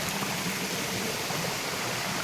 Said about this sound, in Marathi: इतका छान धबधबा आपण या ठिकाणी अनुभवत आहोत